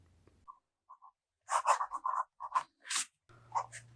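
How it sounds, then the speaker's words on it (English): A Pelikan M205 fountain pen writes on a reporter pad, making short, dry scratches and strokes in quick bursts separated by brief pauses, close and quiet. "The next writing sample is done on a WritePad's reporter pad."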